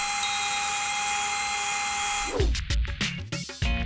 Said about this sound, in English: You wanna drill some holes?